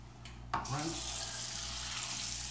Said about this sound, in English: Rinse. And I did that with straight water on the counter.